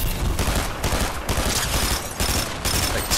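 Rapid bursts of gunfire from a weapon in Fortnite, loud and close, crackling in dense volleys with short gaps between them.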